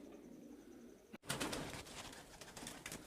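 A Pomeranian pouter, a large fancy pigeon breed, coos softly at first, then a sudden cut gives way to louder rustling and flutter-like noise nearby.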